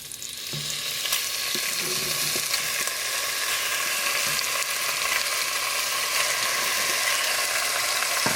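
Kidney fries in hot ghee in a Dutch oven, a loud, steady sizzle that swells in after the first half-second and carries on without a break, with a few faint clinks of utensils.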